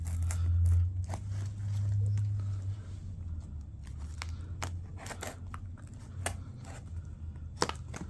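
A Gillette knife slicing open a cardboard box, with sharp clicks and scratchy cuts scattered over steady low rumble, fairly close and moderately loud.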